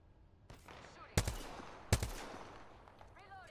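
Gunfire in Apex Legends: two sharp, loud shots about a second apart, each with a short decaying tail, over a low game background.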